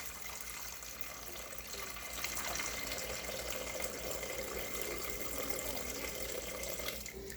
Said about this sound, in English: Now I want to watch the liquid level in your bowl so it doesn't come up over the top